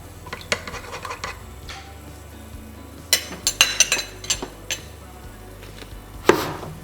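A utensil stirs a flan mixture flavored with vanilla in a bowl, giving soft rubbing scrapes and several sharp clinks against the bowl's side, close up and without talk.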